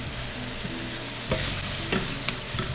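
Wild mushrooms frying in a pan for farro risotto, a steady close sizzle with a few louder stirring scrapes and clatters partway through, no voices.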